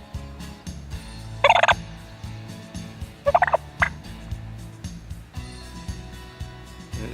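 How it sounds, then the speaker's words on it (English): A recorded wild turkey purr played from a Cass Creek electronic game call: two short bursts of rolling, rattling calls over a low background hum, fairly loud and near, with no talking. "Now here's a purr on the Cass Creek game call."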